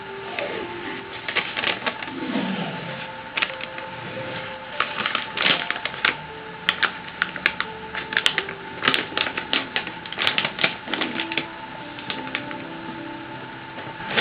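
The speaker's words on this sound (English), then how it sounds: "First I pull off the protective paper." Protective paper backing being peeled off a sheet of clear plastic vinyl for a mini etching press, heard up close as a series of crisp crackles and short tearing rips that come in uneven bursts over about fourteen seconds.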